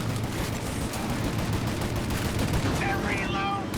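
Gunfire in the video game Mafia: Definitive Edition, a dense, continuous rattle of shots mixed with game noise and faint shouted voices throughout.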